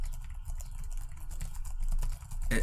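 Typing on a Dell Latitude laptop keyboard with backlit keys and deep travel: a steady run of soft, dampened, muffled key presses, close and quiet, with no talking.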